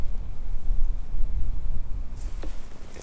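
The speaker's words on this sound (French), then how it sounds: "Alors, le vent se lève, c'est un truc de malade." Low, buffeting winter wind rumbles against the microphone outdoors beside a canal, gusting steadily throughout with a faint knock near the end.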